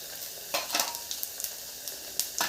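Oil with half a spoon of panch phoron spices sizzling in a pan, a soft frying hiss broken by a few sharp crackles and the scrape of a stirring spoon.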